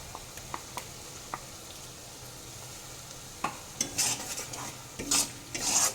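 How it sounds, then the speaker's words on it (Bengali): Tomato paste is stirred and fried in a pan over already-fried onion and garlic for Kolkata-style ghugni. A soft, close sizzle carries scattered spoon clicks, and the scraping grows louder and busier toward the end. "টমেটোটা একটু নেড়ে মিশিয়ে নেব"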